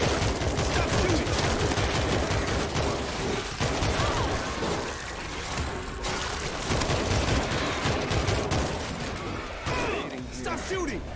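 Rapid bursts of automatic gunfire and shooting fill a World War Z zombie fight in New York, loud and sustained with shouting voices over the battle.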